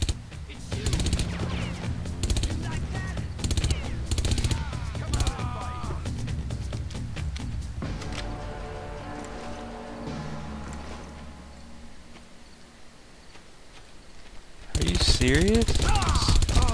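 Sustained automatic machine gun fire in the shooter game Far Cry, loud rapid bursts held down almost continuously, easing off briefly before another heavy burst near the end, with a player talking over parts of it.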